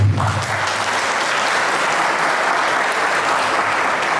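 A large audience at an educational conference talk applauds a poet, with dense, steady clapping that holds loud and continuous throughout.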